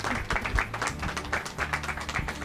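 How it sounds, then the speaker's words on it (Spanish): Audience applause for a finalist bar at a Spanish tortilla contest final, steady dense clapping that keeps up through the clip with a few louder slaps, fairly close. "Un aplauso, por favor."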